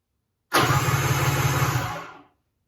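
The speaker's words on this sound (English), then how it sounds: "let's spin it over and see what happens" A motorcycle engine with a suspected bad CDI spun over by its starter, a loud, steady mechanical churn lasting under two seconds, close up and alone before it cuts off.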